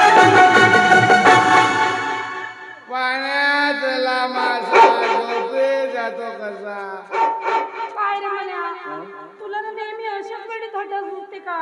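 A voice mimics a dog, letting out a string of barks and howl-like yelps, loud and close.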